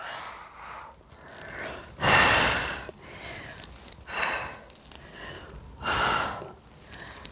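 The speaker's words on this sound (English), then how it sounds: "Deep breath in, exhale across." Deep breaths during an ab workout: three strong, airy exhales at regular intervals, with softer inhales and quieter breathing between them, close to the microphone and no speech.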